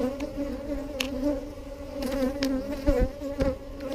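Honey bees buzz around an opened hive fitted with Flow frames, a steady close droning hum with individual bees zipping past the listener now and then, no talk.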